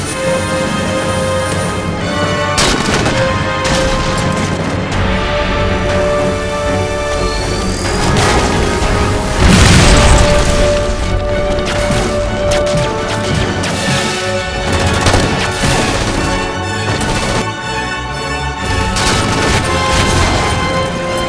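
Gunfire and explosions fill a Halo 4 battle, a dense, loud barrage of shots, booms and crashes layered over music for over twenty seconds.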